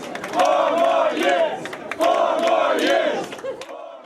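Hong Kong Democrat supporters celebrate Obama's election victory with a loud crowd chanting in rhythmic, repeated phrases, the massed voices rising and falling in two close waves.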